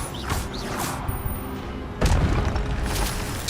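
Expelliarmus spell impacts in the Hogwarts Legacy video game, two deep booming bursts, one at the start and a heavier one midway, each trailing into a rumbling wash, with no talk over them.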